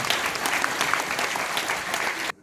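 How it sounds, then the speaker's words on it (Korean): Wedding guests give hearty applause, a dense burst of many hands clapping together that stops abruptly at the end. "큰 박수 부탁드립니다."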